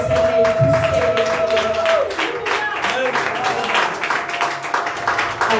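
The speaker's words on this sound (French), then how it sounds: "Est-ce que tu peux donner une grande acclamation très très bien?" An audience at a church convention applauding and cheering: dense, continuous clapping with crowd voices and a sustained musical tone underneath, fairly loud throughout.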